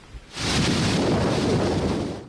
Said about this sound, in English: This wall of wind and rain is only getting worse tonight